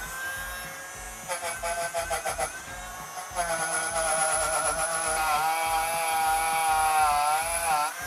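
A Bosch GRO 12V-35 cordless rotary tool scrubbing with a small wire brush, a close high-pitched whine that starts in short bursts and then runs steady, its pitch wavering slightly under load.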